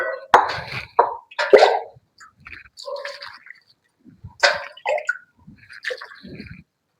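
Leafy greens are rinsed in two or three changes of clean water, giving irregular close plops, splashes and drips in separate bursts with short quiet gaps between them.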